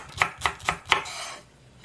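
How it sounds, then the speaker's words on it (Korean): Green onion sliced into thin rounds with a knife on a cutting board, four crisp, evenly spaced chops followed by a brief soft rustle, close and clear. "떠드시기 좋게 이렇게 송송 썰어도 됩니다."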